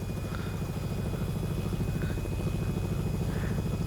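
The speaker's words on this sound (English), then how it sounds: "Crazy maneuverable helicopters here." The simulated turbine engine and rotor of a Robinson R66 helicopter in X-Plane 11 produce a steady droning whine with a low throbbing beat, continuous and even in level, with no talking.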